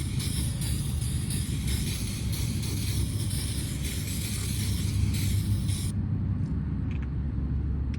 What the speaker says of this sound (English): I'm gonna give these a quick spray down of brake clean anyway.